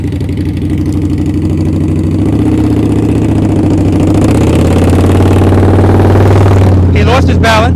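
A motorcycle engine runs steadily at low revs during slow-speed riding practice, a continuous close, loud idle-like rumble with a brief rise in revs near the end.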